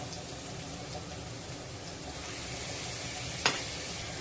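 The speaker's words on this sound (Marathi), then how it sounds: "कांदा गुलाबी रंग इसपर्यंत परतायचा आहे सोबतच आपण एक चमचा होईल इतकी आले लसणाची पेस्ट घालूया" Onion frying in a pan with a spoonful of ginger-garlic paste, a steady close sizzle of moderate loudness running throughout, with one brief sharper crackle near the end and no talking.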